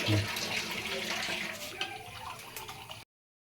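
Water pours in a continuous splashing stream into a cooking pot of chicken curry for about three seconds, then stops abruptly.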